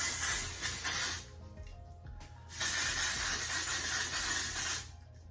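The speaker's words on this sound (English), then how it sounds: "And then hairspray your curls." Hairspray sprayed onto freshly curled hair, two long, loud, steady hissing bursts from an aerosol can with a short pause between them, close up and with no talking.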